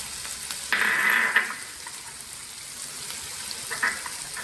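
Onion dropped into a pan with ginger, chilli and garlic for chilli paneer, a soft steady fry with brief bursts of hissing sizzle and a few clinks, no voices.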